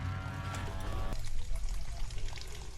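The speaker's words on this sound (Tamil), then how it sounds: "இப்போ இந்த வாளியில் தண்ணி கொஞ்சம் பிடிக்கிறோம்." Water runs into a 10 litre bucket on a farm, giving a soft, steady pouring rush that continues throughout at a low level.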